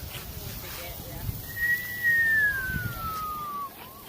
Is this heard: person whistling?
yes